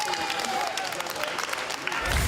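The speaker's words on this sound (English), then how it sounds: "Give them a round of applause." Audience applause after a science-demonstration segment, a dense, even patter of many hands clapping at moderate loudness, with a faint voice murmuring underneath.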